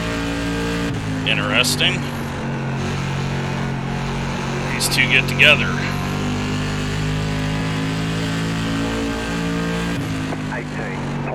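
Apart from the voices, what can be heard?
SK Modified race car engines in iRacing video game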